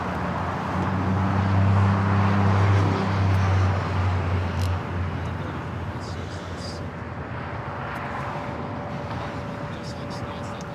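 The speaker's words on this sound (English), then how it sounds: "United A321 Neo taking off here on the south side." A United Airbus A321neo takes off from the south side runways at LAX, a broad loud jet roar with a low engine drone peaking early and then easing to a steady distant rumble.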